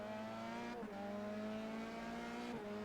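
SCCA race cars braking into a corner: a steady, loud engine drone with strong tonal harmonics, pitch easing slightly as the cars slow, with brief dips and faint tire scrubbing, no voices.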